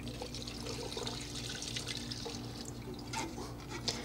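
Chemical liquid trickles and splashes into a metal bin to submerge a truck's circuit board. The pour is faint and steady, with light drips over a low hum.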